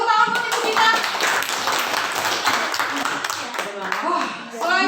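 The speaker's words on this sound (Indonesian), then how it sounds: "Tepuk tangan buat ibu kita." A group claps for a teacher at a school gathering, with steady, fairly loud hand clapping mixed with voices and cheers for about five seconds.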